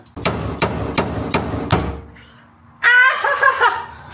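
Five sharp metallic hammer blows ring out in a steady rhythm against a car fuel tank on a BMW E30, each with a hollow resonant clang, followed by a short burst of laughter.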